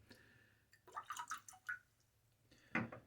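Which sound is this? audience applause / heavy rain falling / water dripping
water dripping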